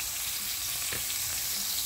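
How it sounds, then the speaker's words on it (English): Chicken pieces pan frying and browning for chicken marsala, a steady close sizzle running evenly throughout with a brief stir-like rustle near the middle, no voices. "I'm pan cooking them so they get nice and brown"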